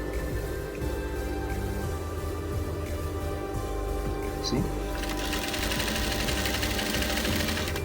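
A sewing machine sews a long straight seam on a dashiki, a loud, steady, close mechanical hum with fast needle chatter running throughout, briefly under a voice, growing brighter and busier toward the end.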